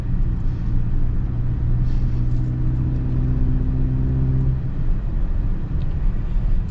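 A 2025 Mazda CX-70 plug-in hybrid SUV drives and accelerates, with a steady low engine and road rumble heard from inside the cabin and a smooth rising hum that carries on throughout.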